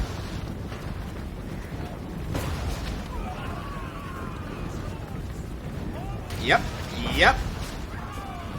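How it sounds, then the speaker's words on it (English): Booming cannon and artillery fire on a Total War: Warhammer battlefield, with a low rumble throughout and two sharp blasts near the end. Someone talks over it. "the cannons are trying to target my trebuchets"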